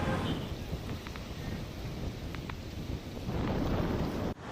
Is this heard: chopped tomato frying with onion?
no